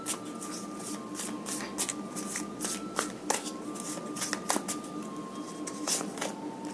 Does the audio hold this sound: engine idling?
no